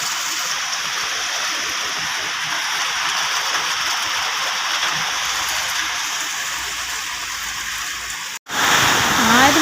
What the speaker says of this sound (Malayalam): പാലക്കാട്ട് ഇപ്പം നല്ല മഴയാണ്.